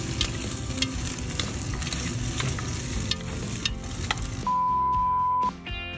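Dried eel stir-fries in a pot with a loud, dense, continuous sizzle and crackle. Near the end the sizzle drops away and a steady electronic beep sounds for about a second.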